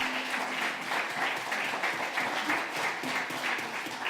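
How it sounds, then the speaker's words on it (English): Gala audience at a capital markets forum applauds, a steady mid-level wash of clapping from a crowd that keeps an even intensity throughout, with a faint background tone underneath. "So huge applause for her."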